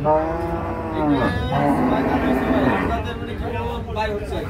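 A Holstein Friesian cow with eight teeth gives a long, deep moo close by, its voice rising and falling over several seconds while people talk in the background.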